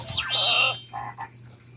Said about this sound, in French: C'est une grenouille.